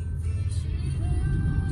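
A rental car switched into S sport mode with paddle shifters pulls harder on a mountain road in Taitung, giving a steady low engine rumble with a slight rising note. The sound sits close inside the cabin and carries no talk.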